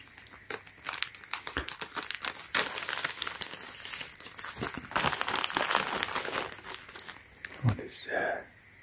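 Plastic packaging around Supreme clothing crinkles and tears as it is opened up close, steady rustling and crackling for several seconds while a person talks over it.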